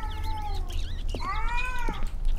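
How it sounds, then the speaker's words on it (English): A cat meows in the horror video game Erie, several drawn-out, wavering meows with a few short ones between, close and clear over a low background drone, with no talk. "Yeah, there's a cat."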